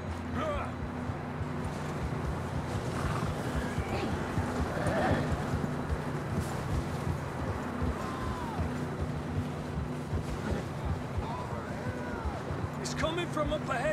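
Horses walking with hooves clopping in Red Dead Redemption 2, a steady soft clip-clop under wind and ambient outdoor noise, with an occasional whinny.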